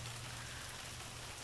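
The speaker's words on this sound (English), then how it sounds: "Okay, rain." Steady rain in the video game Tales of the Neon Sea, a dense continuous hiss of drops on surfaces with a low hum beneath, even and unbroken throughout with no voices.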